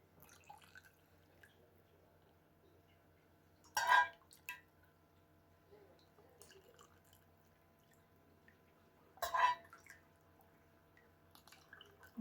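Chicken broth straining through cheesecloth during canning prep, two distinct drips splashing about five seconds apart, close and clear over a quiet background hum.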